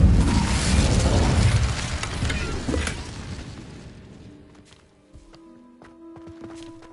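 A loud, roaring burst of the Incendio fire spell from Hogwarts Legacy on PS5 fills the first three seconds, then fades into quieter game ambience with scattered faint clicks and tones.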